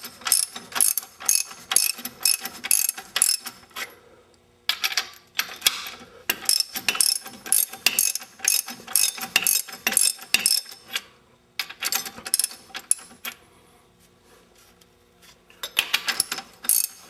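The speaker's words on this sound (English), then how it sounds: "loosen the nuts on the bottom of the strut mount, and this takes a 24mm socket." A ratchet with a 24mm socket loosens the strut mount nuts on a 2000 Pontiac Bonneville. Up close, it gives long runs of fast, sharp clicking in repeated strokes, with a quiet gap before the last bursts.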